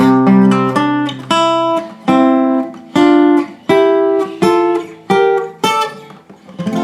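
Strummed guitar chords played in a steady sequence, each struck clearly and ringing briefly before the next, loud and close with no talking.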